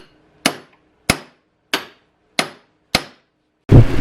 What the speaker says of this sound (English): So I'm going to slip this piece of pipe over the axle, tap it in all the way.